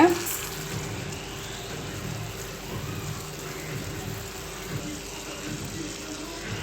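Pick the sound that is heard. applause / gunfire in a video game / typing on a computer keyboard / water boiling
water boiling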